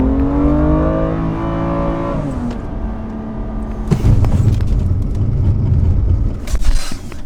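A 2021 BMW M2 Competition with a six-speed manual gearbox accelerates on track, the engine note climbing through a gear, dropping at a shift, then surging again loud and close from inside the car.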